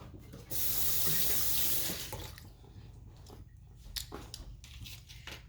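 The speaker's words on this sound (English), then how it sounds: "rinse it out." Octopus rinsed under a running kitchen tap: a steady close hiss of flowing water for about a second and a half, then softer splashing and wet handling noises as the tap stops.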